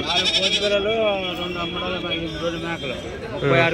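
Goats bleat repeatedly at the Kadiri weekly goat market, wavering nasal cries overlapping close by above a constant background of crowd chatter and people talking.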